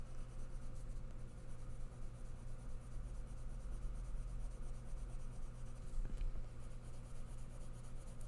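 Faber-Castell Polychromos colored pencil scratching and rubbing across paper, a close, quiet, continuous scratchy stroking with no talk.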